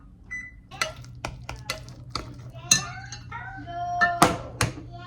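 An oven control panel beeps as it is set to preheat to 400 degrees in a home kitchen, a series of short, sharp electronic beeps in uneven succession, close and clear over quiet room noise.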